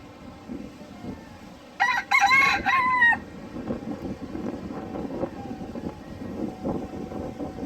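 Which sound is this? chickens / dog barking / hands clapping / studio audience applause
chickens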